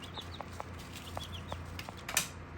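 Golden comet and cinnamon queen hens, molting and kept indoors in a grow room, give soft scattered clucks and chirps, fairly faint under a steady background hum, with one sharper scratch near the end.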